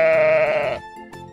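A single lamb bleats loudly and close, a wavering nasal cry lasting under a second, followed by a short quieter bleat.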